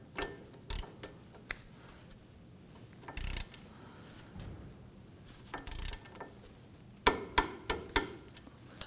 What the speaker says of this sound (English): Let's go ahead and torque down our lower pinch bolt to 46 foot-pounds.